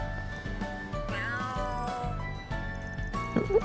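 Cat meowing and yowling in the video game Trails Through Daybreak 2, several drawn-out cries rising over a looping game music track, close and fairly loud.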